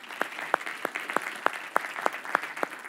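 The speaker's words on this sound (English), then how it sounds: "let's all give them a round of applause as well" Applause at a stem cell science prize ceremony, a hall audience clapping steadily and moderately loud, with a few sharper individual claps standing out at a regular rhythm.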